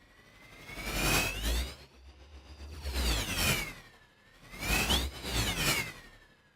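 Swelling whooshes from the Traveler sampler engine as its manual knob is turned up, three broad sweeping surges with rising and falling tones, loud and alone with no voices.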